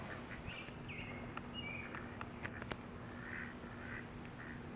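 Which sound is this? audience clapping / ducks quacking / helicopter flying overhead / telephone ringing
ducks quacking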